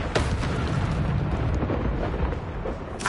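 Incendio fire spells burst in Hogwarts Legacy with a whooshing, booming blast of flame. The rumble sustains for about three seconds with a fresh burst at the end, fairly quiet overall.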